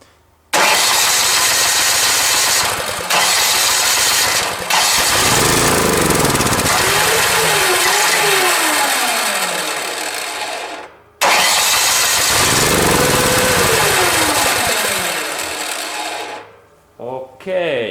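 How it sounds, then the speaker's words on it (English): A small snow blower engine roars steadily at close range, loud and buzzy, with brief dips and a short cutout before revving back up, then sputtering near the end. "now we can see that this engine is running well"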